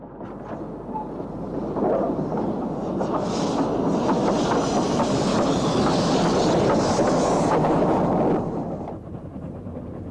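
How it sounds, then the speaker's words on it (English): A steam locomotive on the Isle of Man Railway runs around its carriages close by, a dense rolling clatter of wheels on track that swells up, holds for several seconds, then fades off. "number 5 Mona has brought in a train from Peel and runs around her train"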